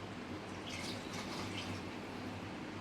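Water pours from a mixer jar into a cooking pot during a home kitchen session, a soft steady splashing trickle of liquid that runs continuously at low level with no talk over it.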